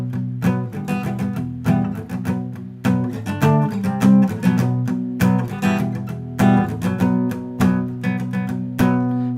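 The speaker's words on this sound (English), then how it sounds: "you get a muted sound like this" Palm-muted guitar chords chug in short, choppy strums with brief pauses between phrases, played close and clear with no talking.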